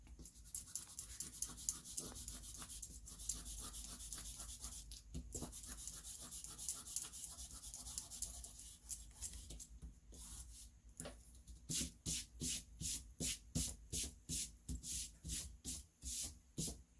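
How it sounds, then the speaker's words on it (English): A pencil drawing is erased with steady rubbing strokes, continuous scrubbing at first and then quicker, evenly spaced back-and-forth swipes, close and fairly quiet with no talk. "let's erase"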